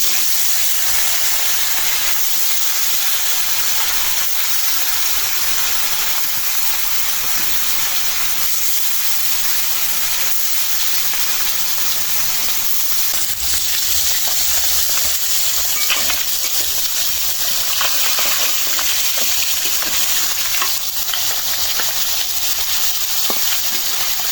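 Fish frying in hot oil in a Bengali home kitchen, a loud continuous sizzle and hiss with occasional stirring scrapes, steady throughout with no talk.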